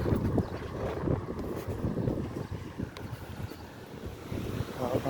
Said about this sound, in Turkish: buradan da rüzgar bitmiyor arkadaşlar